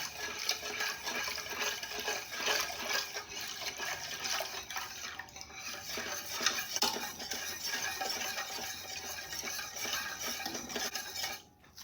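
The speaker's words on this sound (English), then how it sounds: "Gradually whisk this in." A whisk beats evaporated milk into a maple cream pie filling in a pot, giving a steady run of quiet wet swishing and light clinks against the metal that continues throughout and fades at the end.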